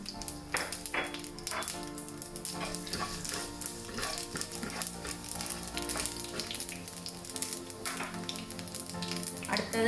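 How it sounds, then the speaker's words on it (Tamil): Cinnamon, cloves, cardamom and fennel sizzle in hot oil with mustard seeds popping, a busy continuous frying hiss dotted with sharp crackles and spoon scrapes, close and steady throughout. "கடுகு வெடிக்க தொடங்கின அப்புறம் எடுத்து வச்சுக்கிற கருவா, கிராம்பு, ஏலக்காய், பெருஞ்சீரகம் எல்லாத்தையும் போடுறேன்."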